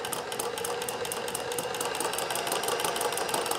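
A sewing machine rapidly stitches drawn threads on synthetic fabric, a fast, even mechanical clatter holding steady and close throughout.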